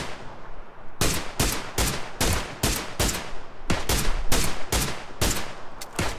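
Rapid gunfire in the PUBG battle royale video game, about a dozen sharp loud shots in uneven bursts after a quiet first second, heard alone without talk.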